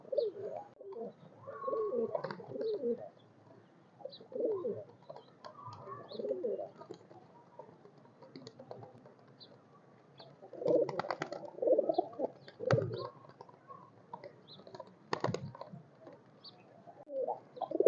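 Highflyer pigeons kept for sale at a bazaar coo repeatedly in soft, rounded phrases, close by, with short pauses and a few faint chirps between them.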